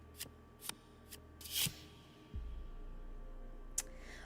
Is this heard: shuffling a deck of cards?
yes